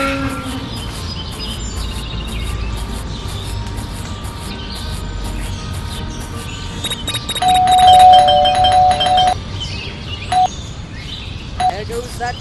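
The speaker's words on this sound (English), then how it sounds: "There goes that stupid bell again." A bell rings in the video game Scary Teacher 3D, a bright sustained electronic tone that swells midway through a steady bed of game sounds, with faint ambience before and after.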